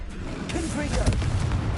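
A Confringo fire spell blast from Hogwarts Legacy, a dull booming burst with a rumbling tail, with a voice mixed in underneath.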